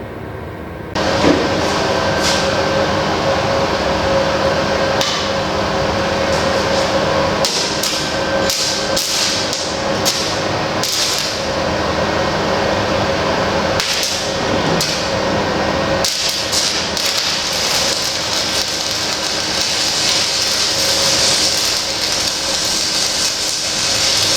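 Arc welding with a Goudenbur 450 W, 120 A welder at about 80 A on a 3.2 mm rod: a loud, continuous crackling and sizzling hiss that runs unbroken for over twenty seconds, with intermittent sharper pops and no talking.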